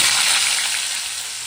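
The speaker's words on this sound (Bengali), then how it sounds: "দিয়ে এবার আলুগুলো দিয়ে দেবো" Potatoes hit hot oil seasoned with five-spice and asafoetida in a pan, giving a loud, dense, close sizzle that fades only slightly over a brief moment.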